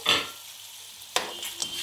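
Green chillies dropped into a pan of frying garlic for bitter gourd pickle, a loud sizzle burst, a short lull, then a second sharp sizzle with stirring scrapes.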